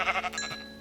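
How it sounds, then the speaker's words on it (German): A sheep bleats in a video game, one short bleat up close, clear and fairly loud against a quiet background. "noch ein Schaf"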